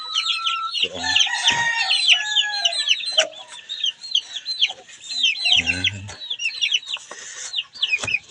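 Hens cluck and a rooster crows close by near a cardboard-box nest, with busy overlapping calls throughout and a few low thumps.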